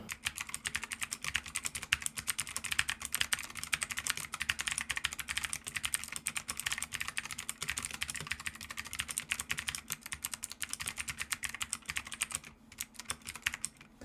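Ajazz A33 keyboard with optical blue switches, typed on in a rapid, continuous stream of crisp clicky keystrokes, close and fairly quiet, with a brief pause near the end.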